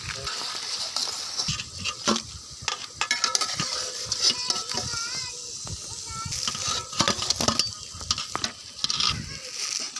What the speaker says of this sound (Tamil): அது சமோசா நல்லா பொரியணும் நல்லா மொறு மொறு மொறு மொறுன்னு கருக விட்டு எடுத்தாச்சு